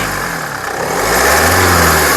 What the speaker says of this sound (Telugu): ఇంజిన్ యొక్క నాయిస్ కూడా పర్ఫెక్ట్గా ఉంది